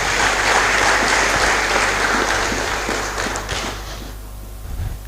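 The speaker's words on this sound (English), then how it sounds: "Another round of applause." Loud, close applause from a college engineering freshmen orientation crowd honoring a professor, thick continuous clapping over a low hum that tapers off near the end.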